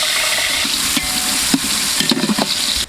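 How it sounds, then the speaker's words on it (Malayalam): Chopped pineapple sizzles in a hot pan while being stirred with spices for Kashmiri pulao, a steady loud frying hiss with a few scraping stir strokes near the end and no voices. "അപ്പോൾ ഇനി നമുക്ക് ഇതിനകത്തോട്ട് അരിഞ്ഞു വെച്ചേക്കുന്ന പൈനാപ്പിൾ ഇട്ട് കൊടുക്കാം കേട്ടോ."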